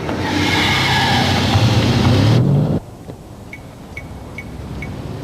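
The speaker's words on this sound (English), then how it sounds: "Operated by just 2 men, with its 8-wheel drive and unofficial top speed of 100 miles an hour, the Cougar is the ultimate specialist emergency vehicle." An 8-wheel-drive Cougar specialist emergency fire vehicle drives past with a loud, broad roar and rising engine note, then cuts abruptly to a quieter steady rumble with faint, regular high beeps.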